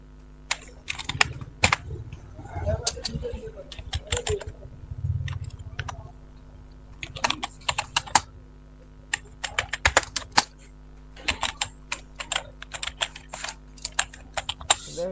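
Typing on a computer keyboard at close range, in bursts of rapid key clicks broken by short pauses and a few louder single taps.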